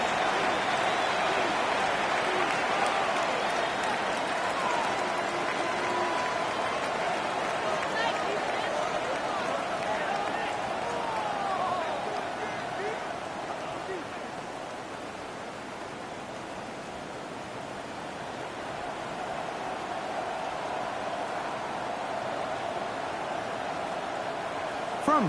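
Steady rain hiss fills a football video game set at Gillette Stadium, a broad continuous wash that dips slightly midway, with commentary voices talking over it.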